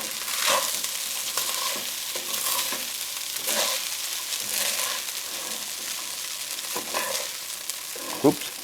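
Fried rice sizzling hard in a very hot pan, with repeated scraping stirs and occasional sharper clanks of the utensil against the pan over a constant frying hiss.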